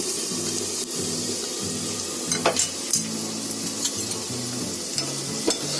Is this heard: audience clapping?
no